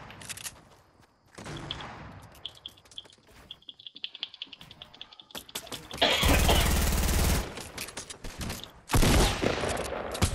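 Gunfire in the battle royale game Fortnite, with scattered quiet clicks early on, then two loud, sustained bursts of rapid shots near the end.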